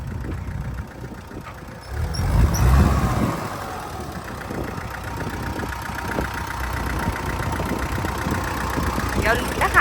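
An idling Kubota L4508 tractor engine with its original motor runs as a soft, steady low rumble, with a louder surge near the start and someone talking over it throughout.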